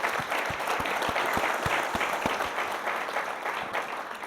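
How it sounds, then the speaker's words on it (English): An audience at a national conference applauds from the main stage hall, a dense wash of clapping with a few distinct loud claps standing out near the front, gradually thinning toward the end. "So a round of applause to thank you to the team."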